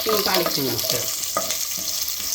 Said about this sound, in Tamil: அதையும் சேர்த்து இப்போ தாளிக்கிறேன்